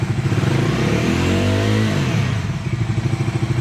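A Bajaj Dominar 400 motorcycle engine revs close up, a steady loud idle rumble that climbs into a brief rising rev and then settles back down.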